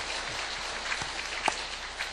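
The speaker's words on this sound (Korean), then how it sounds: "수능생들을 위해서 격려를 한번 하고 싶었는데 한 번 더 박수하겠습니다." A church congregation gives a short round of applause to encourage students sitting their exams, a soft, steady patter of many hands clapping at a distance.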